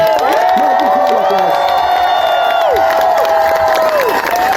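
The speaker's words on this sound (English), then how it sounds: "How about a big round of applause for" Loud crowd cheering with whoops and shouts over clapping at a memorial event, voices rising and falling in excited bursts throughout.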